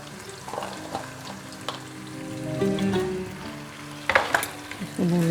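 Cloves, cardamom and cinnamon fry in oil with a close, crackling sizzle, broken by a few metallic scrapes and clinks from stirring near the end. No one speaks.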